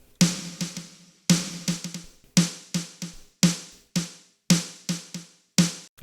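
A dry snare drum hit repeatedly in a steady groove, each crack sharp and decaying quickly with no lingering tail, played alone.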